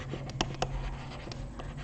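Pen or marker strokes scratch across a writing surface in a few quick, faint bursts while a chemistry problem is written out, with a low steady hum underneath.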